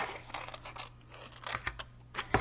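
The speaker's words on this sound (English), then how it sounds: "So we'll cut this out." Scissors snip through designer series paper with country gingham print while paper pieces for a craft project, giving a short sequence of close, crisp cuts and light paper rustles, with no talking.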